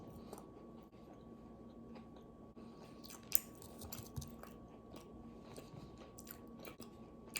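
Reheated BBQ boneless chicken wings are bitten and chewed up close, soft, quiet crunches and moist chewing in an irregular rhythm with a few sharper bites.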